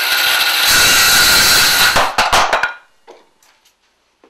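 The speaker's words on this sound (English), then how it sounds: "Just going to cut off a piece of this Paduke." Loud power saw cutting off a piece of padauk wood in a workshop, a steady whine for about two seconds, then spinning down with a few clunks and fading to near silence.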